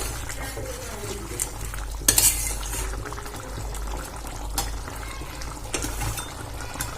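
Spoon stirring yogurt chicken curry in a cooking pot, soft scraping and wet squelching against a low simmering bubble, with a few sharper clinks of the utensil on the pot.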